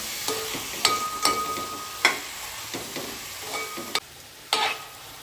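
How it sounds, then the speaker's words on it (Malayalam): Chicken being stirred in a pan with salt and lime juice for a Kerala-style chicken stew, giving repeated scraping strokes against the pan over a low sizzle, close and moderately loud, with no talk. "നന്നായിട്ടൊന്ന് ഇളക്കി കൊടുക്കാം."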